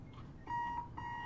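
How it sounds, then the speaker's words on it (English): Alarm clock in the bomb-defusal game Keep Talking and Nobody Explodes, two quick bursts of shrill electronic beeping over a low background rumble, short and moderately quiet. "Is that the alarm clock?"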